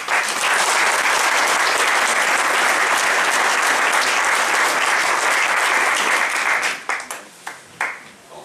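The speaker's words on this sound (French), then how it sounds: "je vous remercie également de lui adresser tous vos applaudissements" Audience applause at a New Year's wishes ceremony held at Château d'Olonne, a loud, sustained ovation of many hands clapping that thins into scattered final claps near the end.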